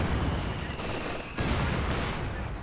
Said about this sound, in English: Oh, that could be a dead MG42. No, none of those bullets are connecting.